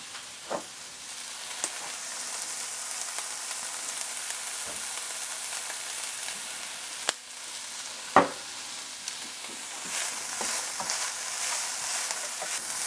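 Snow peas and carrots stir-fried for sotanghon guisado, a steady close sizzle with sharp scraping clicks of the spatula against the pan at irregular intervals, growing slightly louder near the end, with no voices.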